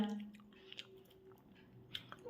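Soft wet chewing of rice khichuri with new potatoes and a cauliflower-potato curry, close and quiet, with faint squishy bites and a few small clicks, no talking.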